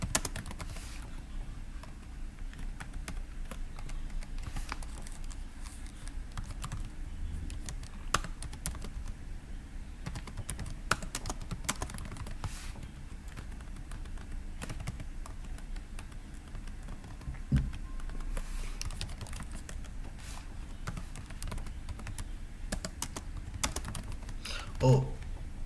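Continuous typing of code on a computer keyboard, quick irregular key clicks with occasional louder strikes, close and steady throughout.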